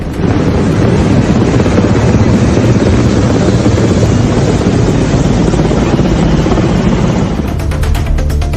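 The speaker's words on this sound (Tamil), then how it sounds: "பாதுகாப்பு படையினர் தாக்குதலுக்கு பயன்படுத்தும் ஹெலிகாப்டர்களும் ஒத்திகையில் ஈடுபட்டன" A loud, steady roar of military helicopters in a rehearsal, heavy and continuous with wind buffeting the microphone, shifting slightly near the end.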